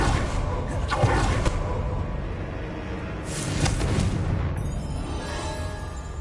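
A Confringo blasting spell in Hogwarts Legacy goes off with a booming, rumbling burst, then a second blast a few seconds later, both loud and close over a dense game soundscape.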